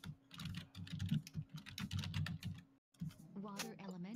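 Computer keyboard keys hammered hard and fast during a late-night World of Warcraft PvP rated battleground, a dense run of loud clacking that breaks briefly and then continues under talk and game sounds.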